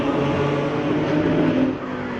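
A Porsche 997 race car screams past on the Killarney circuit during a National Extreme Festival race, its engine note loud and sustained, then dropping slightly as it passes.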